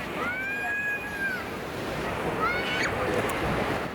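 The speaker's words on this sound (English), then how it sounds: "There's some noise from the waves" Steady surf rushes under broadband noise on a crowded Australian beach on a Saturday afternoon while faint voices and a couple of high whistling cries come and go in the distance.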